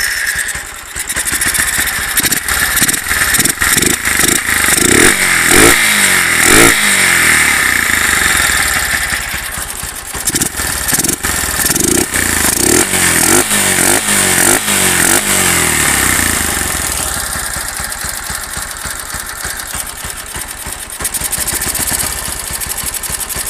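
A carbureted Honda Titan 150 motorcycle with a tuned camshaft runs loud and close, the engine idling with uneven bursts of revving and a rough, pulsing exhaust throughout.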